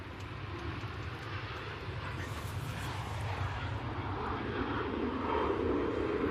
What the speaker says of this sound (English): We have TUI now departing off runway 1.